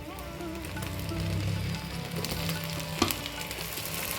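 Tomatoes, green chilies and garlic sizzle and fry steadily in a pan for a Chettinad ghee fish curry, a continuous close crackle with a single sharp clink partway through.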